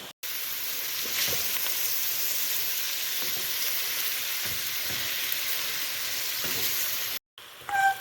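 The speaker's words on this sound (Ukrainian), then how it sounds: "Додаємо 250 г моркви. 3-4 хвилини обжарюємо." Chopped onion and carrots fry in about 150 ml of oil in a pan, a steady close sizzle with faint crackles, briefly cut by a pause near the end.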